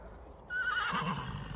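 A horse neighs loudly and close by, one long shrill whinny that wavers and then trails off into a lower snorting tail.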